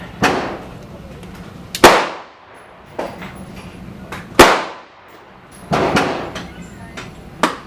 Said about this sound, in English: So we have Steve shooting it.